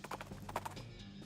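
Hooves of a skeleton horse clip-clop in the game West of Loathing, a few quick, faint clatters in a short run.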